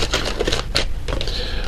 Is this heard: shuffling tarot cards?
yes